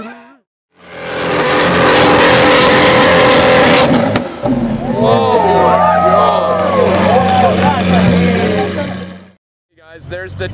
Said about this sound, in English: There's a Senna that just rolled up too.